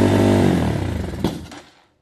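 A cheap full-size Chinese dirt bike engine revs hard at a high idle, a loud buzzing, harmonic-rich drone that fades and cuts out with a brief clatter near the end.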